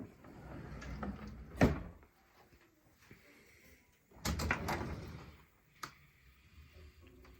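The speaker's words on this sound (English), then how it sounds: "And this drawer over here is kind of where all the fun is." A drawer in a model train room slides open with a quiet rolling scrape, then more soft rumbling movement and a couple of small knocks, close by and faint.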